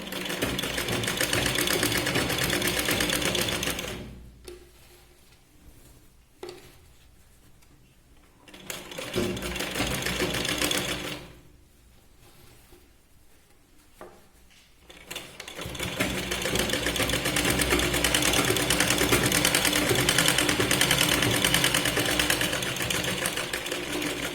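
A sewing machine stitches a blouse seam in close, steady bursts of whirring, breaking off into quieter pauses twice before running on continuously to the end.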